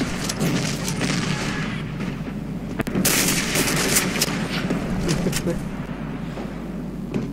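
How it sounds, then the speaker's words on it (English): Explosions and gunfire fill a Black Squad match, with booming missile strikes and dense rattling shots layered over a continuous battle din, loud and close throughout. "Friendly missile strikes inbound."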